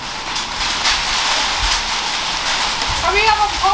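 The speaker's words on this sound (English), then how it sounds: "Guys, it's hail stoning." Hail pelting down outside an open door, a steady broadband patter filling the whole clip at close range, with brief voices chirping faintly near the end.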